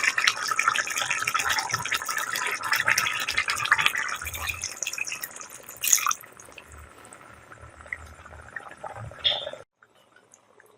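Thick first-press coconut milk poured into a pot of green peas curry, a soft liquid pour with light drips and utensil rattles that stops abruptly near the end, close and moderately quiet with no talk.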